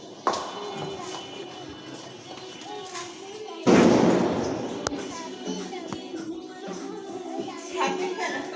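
Firecrackers burst during a New Year celebration, one sharp crack early and a louder blast midway followed by scattered pops, with children and adults talking around them.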